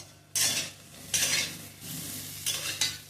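Dried chilli powder is stirred and fried in a pan for Assamese aloo dum: four distinct bursts of scraping and stirring against the pan, close and fairly loud, over a low steady background hum.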